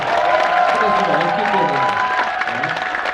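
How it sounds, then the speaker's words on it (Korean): Audience applause and cheering for a kindergarten class of four-year-olds after their dance performance. The clapping is steady and moderately loud, with crowd voices and a sustained musical or vocal tone running beneath it. "이 정도 박수면 괜찮을까요?"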